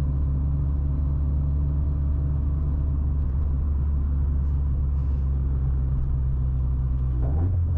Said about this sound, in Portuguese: Aqui a gente tá só passeando, galera, com o Astrão.